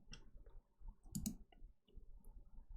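Computer mouse clicks during a website audit, a few faint, close taps spaced irregularly over quiet room noise with low rumbles, no speech.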